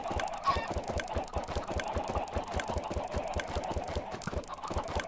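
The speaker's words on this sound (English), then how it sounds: "We're putting a lot of chickens in here." Many video game chickens in a Minecraft-style pen cluck and chatter together in a dense, continuous flock sound over a rhythmic low thumping.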